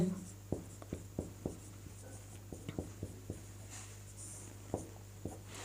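Someone writes Sanskrit words on a board with quick, irregular taps and short strokes, faint against a steady low electrical hum, with occasional quiet speech.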